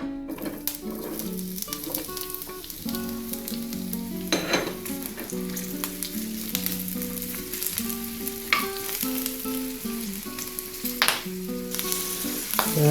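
Little gourmet potatoes fry in a pan for a breakfast hash, giving a continuous crackling sizzle with occasional stirring scrapes up close.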